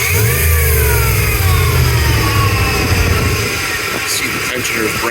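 A 2003 Dodge Ram 1500 with a 5.7 Hemi revs loudly up close, carrying a steady whine over the engine note. The pitch shifts as the throttle changes, with a brief extra noise near the end.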